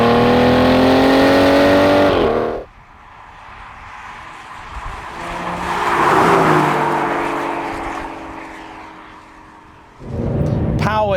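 An Aston Martin Vanquish engine revs hard and accelerates with a rising, loud roar up close. After a drop, the car is heard fading away and passing at a distance, then another loud burst of revving comes at the end.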